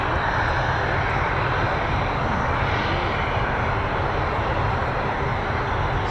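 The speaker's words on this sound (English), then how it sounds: "So Ted's flown in XX188." Military jet aircraft passing during a Cobra Warrior air exercise with F-16s and Eurofighter EF2000s, a loud continuous broadband engine roar holding steady throughout with no talk over it.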